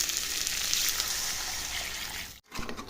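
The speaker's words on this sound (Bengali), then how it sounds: "এবার আমি জল দিয়ে দিব।" Water pours steadily into a pan of potato and cauliflower curry for a Sarputi fish jhol, a dense close splashing rush that stops abruptly near the end, followed by a brief sizzle.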